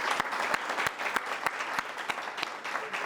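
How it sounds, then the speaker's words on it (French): Audience at a student talk in Lille claps steadily to welcome a speaker, dense applause with a few sharper individual claps standing out, no talking over it. "On peut applaudir Célia et vous applaudir, merci."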